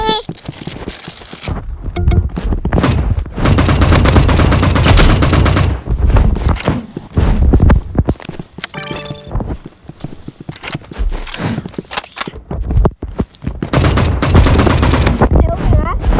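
Sniper and other gunfire in a video game comes as loud, dense bursts of shots over busy game sound and music, with short gaps between volleys.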